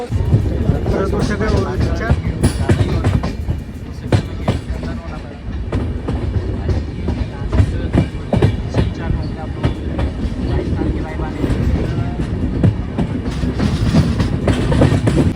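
Kota Janshatabdi Express (12060) departing Bharatpur station, a loud, continuous rolling rumble with repeated rail clatter and rattling carriages close by throughout.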